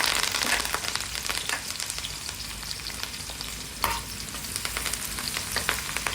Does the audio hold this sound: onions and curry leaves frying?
yes